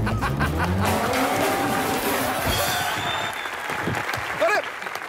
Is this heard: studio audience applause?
yes